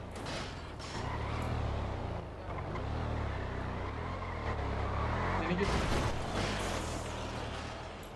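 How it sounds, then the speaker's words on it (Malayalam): An off-road vehicle, a KTM or the Hellfire Rancho, revs and grinds through a turn on a turf race track, its engine droning steadily with creaking mechanical strain, while spectators chatter nearby. "വണ്ടി തിരിയുന്നുണ്ട്."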